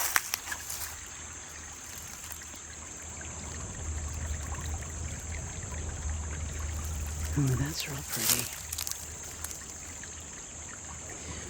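A stream in the woods trickles and burbles steadily nearby, a soft continuous water sound, while a person briefly remarks over it.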